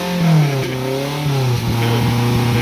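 A 2015 Toyota Camry engine revs up nearby, rising and falling in pitch over a couple of quick throttle blips before settling to a steady idle.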